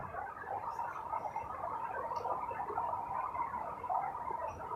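Steady rain patter across an outdoor lawn bowls green during a championship fours final, a continuous hiss with fine pattering texture held at an even level throughout, no voices.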